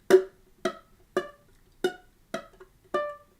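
Six strummed ukulele barre chords ring out in an even rhythm, each short and plucky with a quick decay, and some strums sound muted and thuddy from dead notes.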